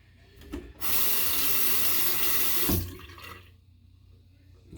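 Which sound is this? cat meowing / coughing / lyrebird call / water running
water running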